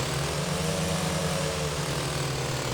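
An MC-15 Cri-Cri propeller plane engine in MSFS drones steadily and loudly, a continuous buzzing hum with no speech.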